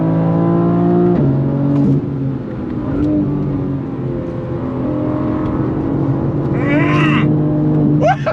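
A BMW M4 CSL sports car engine revs up to the redline in repeated rising pulls, its strong harmonic whine climbing then dropping with gear changes, loud and close from inside the car, with brief tire or wind noise near the end.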